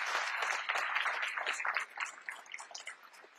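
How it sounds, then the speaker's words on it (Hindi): A seminar audience applauds in a dense, lively burst of clapping that tapers off over a few seconds, heard from within the room, with no talk. "एक जबरदस्त ताली है इन सभी रिसीवर्स के लिए"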